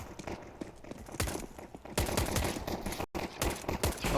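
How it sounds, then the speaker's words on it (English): Rapid, dense Glock pistol fire during a Counter-Strike match on the Mirage map, overlapping sharp cracks from several shooters in a busy barrage, with a brief gap before the shots resume. "Lots of Glocks and lots of headshots."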